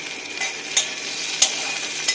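Chopped onions and chilli fry in a pan with a continuous soft sizzle, broken by a few quick stirring scrapes spaced evenly through a short stretch.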